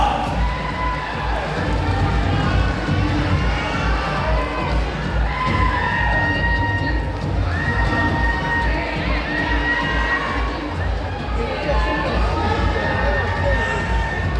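Pageant audience at a Miss Fa'afafine contest cheers and screams steadily throughout, a dense, loud crowd roar with shrill individual shrieks rising above it.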